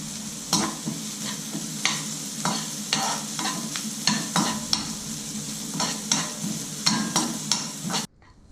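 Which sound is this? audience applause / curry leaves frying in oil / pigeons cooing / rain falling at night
curry leaves frying in oil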